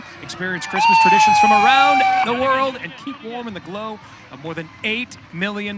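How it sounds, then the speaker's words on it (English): An ambulance siren wails in the background during a Christmas parade, rising and holding briefly while a voice talks loudly over it close by. "you could hear the siren in the background"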